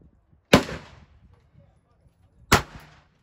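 Two loud, booming gunshots at an outdoor shooting range, about two seconds apart, each with a short rumbling tail, over faint background noise.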